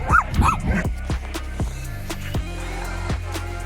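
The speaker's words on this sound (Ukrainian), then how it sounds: "Собаки незадоволені, що тут борсенці лазить." Several sharp dog barks and yips in quick succession from village dogs, fairly close, with a couple of later barks spaced out over a steady low background hum.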